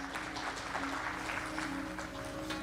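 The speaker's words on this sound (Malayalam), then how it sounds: "ക്ലിന്റനിക്കും വൈഫിനും നല്ലൊരു ക്ലാപ്പ് കൊടുക്കും എല്ലാവരും." Steady audience applause fills the hall for a couple called up on stage during an award event, dense clapping sustained throughout under a faint background hum.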